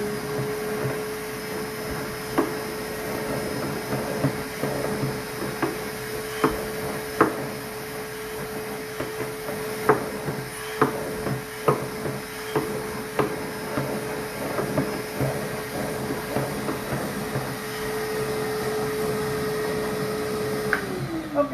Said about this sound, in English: then I can come back and vacuum it. And I've got my brush head on here so I can brush it out as I go too